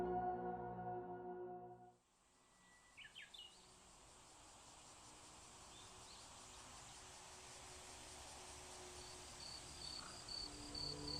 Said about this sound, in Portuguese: O som dos grilos para de repente.